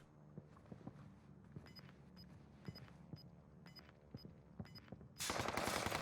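Gunfight in Call of Duty: Warzone on the Caldera map, with faint bursts of rapid gunfire cracking in an irregular rhythm, ending in a sudden loud hissing blast.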